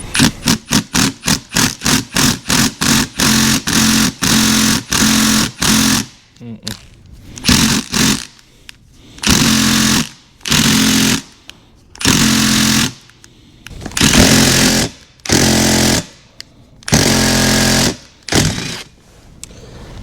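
A power driver hammers at Torx bolts on a Jeep, starting with rapid evenly spaced impact bursts that give way to longer, loud grinding runs separated by short pauses; no one speaks.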